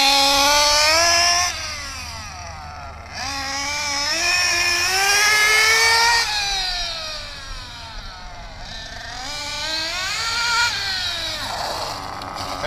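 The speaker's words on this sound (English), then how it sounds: "Tank 10 is the first tank that I'm going to put a little bit of stress on the motor, a little bit of load." RC model boat motor on break-in, running race-circuit laps under load: a loud high-pitched whine that repeatedly rises and falls as the boat accelerates and slows through each pass, close and continuous.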